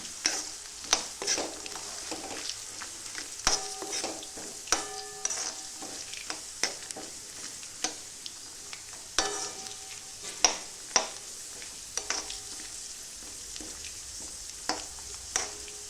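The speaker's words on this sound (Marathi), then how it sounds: "लालसर रंग येऊपर्यंत शेंगदाणे फ्राय होऊ द्यायचे।" Peanuts frying in oil in a pan for sabudana khichdi, a quiet steady sizzle punctuated by frequent sharp clinks and scrapes of a spoon stirring against the pan, close and without talk.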